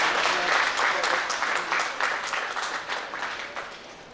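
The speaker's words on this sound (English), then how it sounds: "May I request a round of applause from all of the" A conference audience at the 6th SAQAN Conference gives a round of applause, with dense, steady clapping from many hands that slowly fades over about four seconds.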